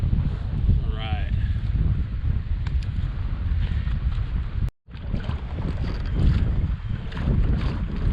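Wind roars across the microphone while kayaking on open water near an island, a constant heavy rush with gusty swells that fully masks other sound, with brief faint water noise.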